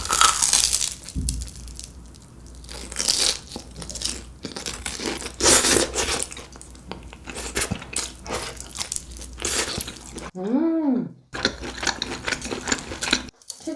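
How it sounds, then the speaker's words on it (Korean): Someone bites into a deep-fried whole mozzarella stick, producing loud, close crunching and crackling chews that repeat for several seconds, followed by a brief hummed sound of enjoyment. "통모짜렐라예요 이거 모짜렐라를 그냥 통으로 튀겼대요"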